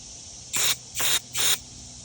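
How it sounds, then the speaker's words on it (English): Carb cleaner is sprayed onto a Briggs & Stratton EX 675 lawn mower carburetor in three short, close hissing bursts of about a quarter second each, with brief pauses between them. "spray carb cleaner in every little area we can"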